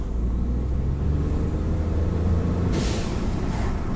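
Ford F-150 EcoBoost engine in a truck game mod, a steady low rumbling drone held at one level throughout, with a brief hiss of air near the end.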